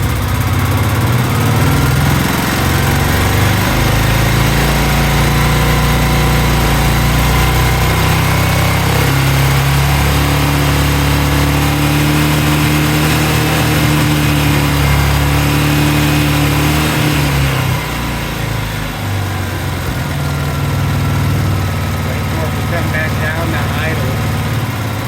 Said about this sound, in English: This is currently at idle, and I'll bring you through the RPM range now.